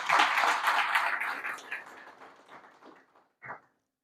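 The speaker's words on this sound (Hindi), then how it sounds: "जोरदार तालियों से आपका स्वागत" Applause welcoming a guest at a lecture in Rajasthan, a crowd clapping loudly at first, then thinning into scattered claps and a final lone clap before silence.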